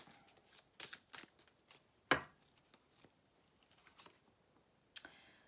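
Oracle cards being shuffled and handled, soft scattered riffles and flicks with a few sharper snaps, faint and close in a quiet room.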